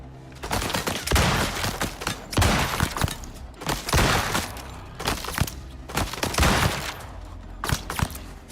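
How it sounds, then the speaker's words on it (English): Dense gunfire in the survival game Icarus, with repeated bursts of shots and impacts that come in loud waves, close and continuous across the whole stretch. "I think it's them shooting back at me"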